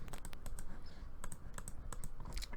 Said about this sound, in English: That's why you can hear the clicking, because I'm just checking.